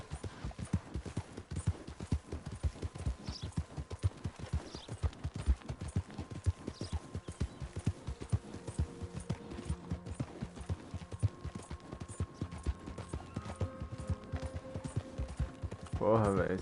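Hooves of a horse galloping in Red Dead Redemption 2 drum out a fast, steady clip-clop rhythm for the whole stretch, with game sound effects and music layered in and a sharper burst near the end.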